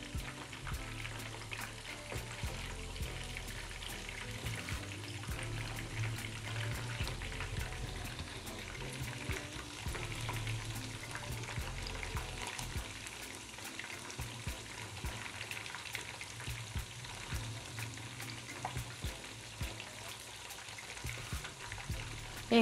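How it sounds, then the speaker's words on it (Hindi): Chicken Manchurian pieces frying in hot oil until crispy, a soft continuous bubbling sizzle with scattered small pops, heard at low level throughout, steady and unbroken. "इसको हमने क्रिस्पी होने तक फ्राई करना है।"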